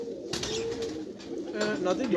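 Rooftop pigeons cooing in short low murmurs, steady and close, mixed with faint chirps and a voice talking over them.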